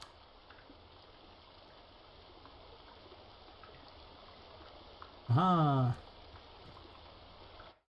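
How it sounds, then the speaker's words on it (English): Steady rushing of a waterfall and running water in a 3D metroidvania game, a constant wash of noise for most of the clip that cuts off near the end, with a brief rising exclamation over it. "I need to turn the water off when I shut the waterfall off,"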